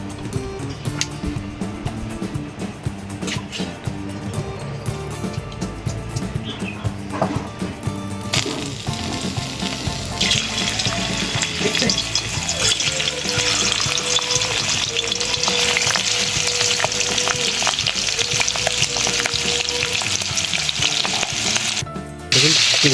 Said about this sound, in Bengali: প্রথমে আমি চিংড়ি মাছগুলোকে আমি ভেজে